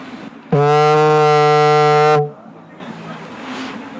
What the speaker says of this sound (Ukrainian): Вот эта флейта, вона грає з двох кінців.